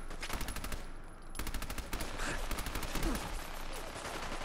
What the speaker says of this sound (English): I have a machine gun too.